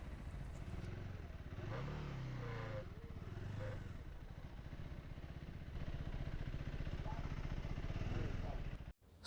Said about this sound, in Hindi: पहले बाइक पार्क करता हूँ।